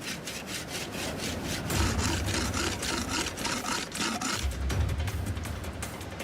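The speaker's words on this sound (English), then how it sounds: "this side that I've just snapped off, I'm going to sharpen on a rock" A snapped-off metal blade is sharpened on a rock with steady, repeated rasping strokes, an even scraping rhythm heard close and fairly quiet with no talking.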